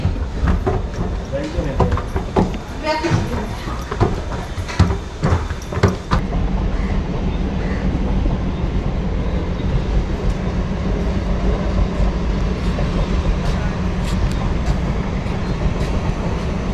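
A train arrives at a station with a loud, steady rolling rumble, preceded by a stretch of sharp clanks and station bustle, while people talk nearby.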